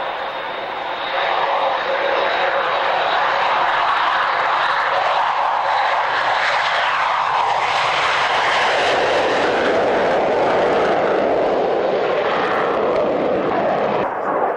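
A military jet performs a takeoff at the start of a 1998 Woodford airshow display, its broad, loud engine roar building and sustaining throughout, with a long rising-then-falling sweep as it climbs away; a voice is faintly present.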